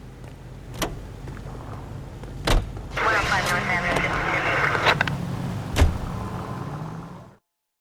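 A car in L.A. Noire rumbles steadily along at moderate volume, with a few sharp door-like thuds and a brief mechanical whir partway through, and a voice talking over it.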